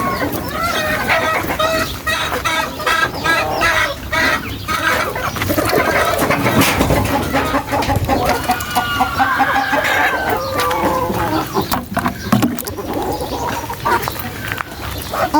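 Backyard chickens and roosters just fed and given vitamins, clucking and gurgling steadily up close, with overlapping calls from several birds throughout.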